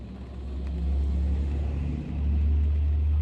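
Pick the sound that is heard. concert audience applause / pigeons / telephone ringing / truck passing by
truck passing by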